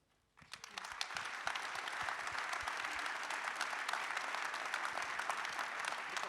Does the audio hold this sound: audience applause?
yes